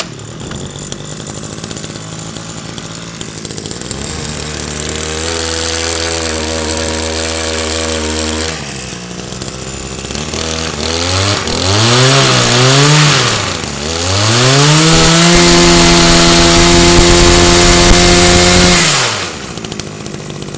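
A small gasoline engine on a mini machine with a 32 cc bore is pull-started, then runs loudly on its own, idling, revving up and down, and holding at high speed before cutting off.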